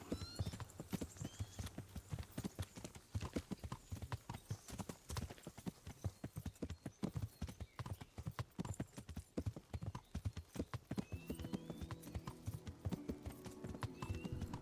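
Horse hooves gallop in the medieval game Kingdom Come: Deliverance, a fast, steady drumming of close hoofbeats running throughout, with a brief neigh-like tone near the end.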